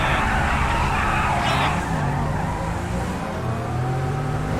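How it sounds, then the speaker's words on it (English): A sports car in GTA 5 revs loudly and spins its tires in a burnout, engine roar and tire squeal, then the engine note drops and drones on steadily. "If you pull up to a red light in a sports car next to someone else in a sports car and rev your engine, they'll often burn out and race you"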